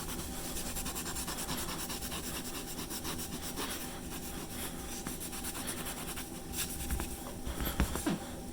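Soft, steady rubbing as paint is wiped out of the cracks between tiles, a continuous low-level scrubbing that turns a little rougher near the end, with no voices.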